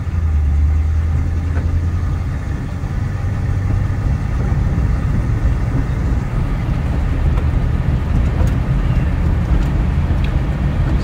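A 1957 Pontiac Star Chief Safari two-door wagon cruises down the road, its engine giving a steady low rumble and drone, close and loud, with road noise and no talking throughout.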